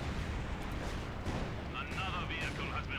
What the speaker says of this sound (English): Great Stuka barrage!